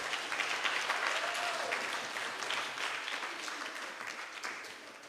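Applause rises for a sponsor at a kids' cricket camp, a fairly quiet, moderately dense spatter of clapping from a modest crowd that gradually thins out.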